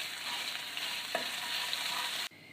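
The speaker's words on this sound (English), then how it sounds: "as soon as you start seeing them pop, which they are starting to do now, you can see it sizzling" Ginger and garlic dropped into hot oil for a dal give a close, dense sizzle with small crackles, then stop abruptly near the end.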